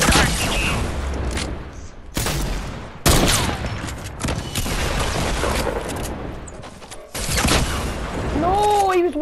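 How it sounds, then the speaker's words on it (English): Heavy bursts of Fortnite gunfire and loud RPG explosions in a battle royale match, several booming blasts in quick succession with rapid shots between them and some talk mixed in. "Wait, Nathan, stop killing me with the RPG."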